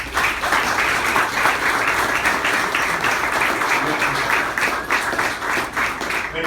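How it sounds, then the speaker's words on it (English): An audience claps steadily for a coach at a check presentation, a dense, even round of applause sustained at full strength throughout. "So please clap it up for Coach Pecora."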